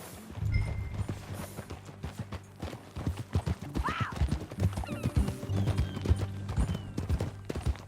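Horse hooves clip-clopping at a walk in the video game Red Dead Redemption 2, a steady run of hoofbeats with a single whinny from the horse partway through, over a low background hum.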